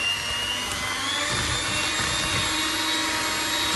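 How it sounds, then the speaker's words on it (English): An electric whisk hums steadily as it mixes chocolate cake batter, a continuous motor whine at moderate level with no voices. "we're going to turn on the electric whisk like this"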